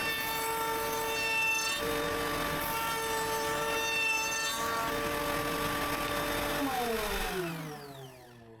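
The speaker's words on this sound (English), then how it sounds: "I round off the edges on the top of the foot using the router." A router rounds the edges of a wooden foot for a glasses holder, giving a steady, high-pitched motor whine with a cutting rasp close by, then spinning down near the end.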